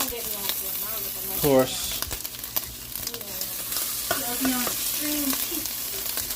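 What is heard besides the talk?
turkey bacon sizzling in a pan after flipping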